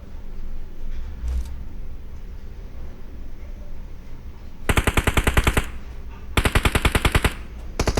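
Automatic gunfire from the video game PUBG comes in two loud rapid bursts in the second half, after a quieter stretch of faint background noise.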